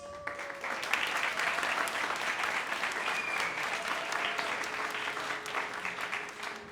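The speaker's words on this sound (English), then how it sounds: "a really warm applause to everyone in this room" Steady, sustained applause from an audience, dense clapping filling the room for several seconds at an even level.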